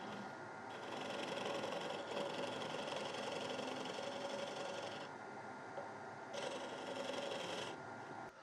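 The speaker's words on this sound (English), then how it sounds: "The old lathe started to get a bit of a rock up." An old woodturning lathe spins a heavy-duty chopping board blank and rocks slightly on its stand, giving a steady, loud mechanical whir with a faint rhythmic knock that holds for the whole stretch, with no talking.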